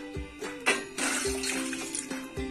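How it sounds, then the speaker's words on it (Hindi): Water is poured into a cooking pot in a kitchen, making a close, rushing splash that starts and stops in short bursts, with gurgling as the pot fills. "ये देखिए मैंने एक पतीला ले लिया है इसके अंदर मैं पानी डालूंगी"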